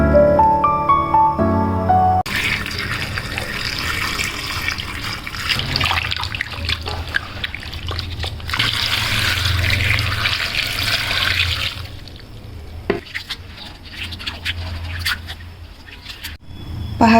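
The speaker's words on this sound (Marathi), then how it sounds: "स्वच्छ पाण्याने धुवून घ्यायच्या." Tap water runs steadily into a sink or basin as raw green mangoes are rinsed clean, a continuous splashing wash with brief clinks and dips in flow, no talking.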